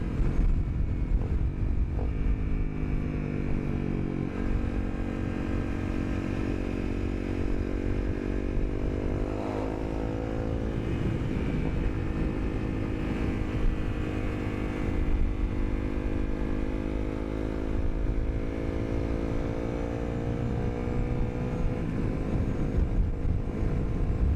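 Honda CRF250L motorcycle with a Yoshimura spark arrestor exhaust runs steadily and close by, with a low, even engine drone that swells in a throttle rise midway before settling back, alone without talk.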